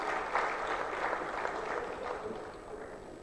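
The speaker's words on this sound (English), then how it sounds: "Can I have a very big round of applause?" An audience at a Make In India national seminar claps in a sustained round of applause. The clapping is dense, evenly spread and moderately close, fading a little toward the end, with no speech over it.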